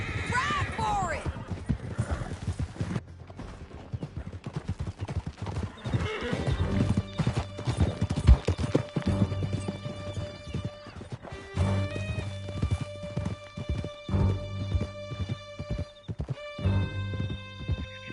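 Horses gallop in Red Dead Redemption 2, with rapid hoofbeats, neighs and crashes under game music, while voices shout over the ride.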